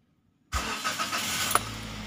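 A car engine cranks on the starter and catches, then settles into a steady running rumble close by, heard from the driver's seat during a beginner's driving lesson.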